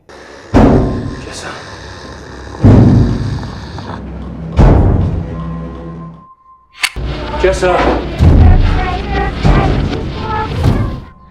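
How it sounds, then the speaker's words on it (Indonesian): Several loud, heavy booming thuds land a couple of seconds apart, each ringing out briefly, with a voice speaking over them. "Tiba-tiba terdengar suara dentuman keras."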